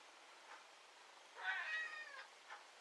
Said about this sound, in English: Can you hear my cat Dushy?